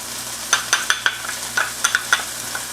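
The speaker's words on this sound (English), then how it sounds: "Now I will add the Piment Espelette." Piment d'Espelette is stirred into a pipérade frying in a pan, giving a steady sizzle with a series of sharp scraping stir clicks close by and no talking.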